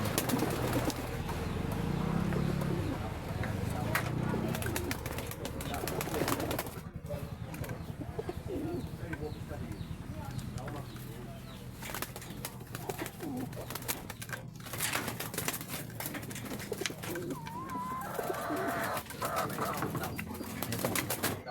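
Birds cooing and fluttering in a loft, with occasional wing flaps and chirps, soft low murmurs mixed with intermittent background noise.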